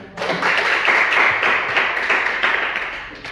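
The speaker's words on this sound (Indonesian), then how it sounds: "Ya, beri tepuk tangan." Audience applause at a school debate competition in Balikpapan, a dense sustained patter of clapping that holds steady for about three seconds and then starts to fade.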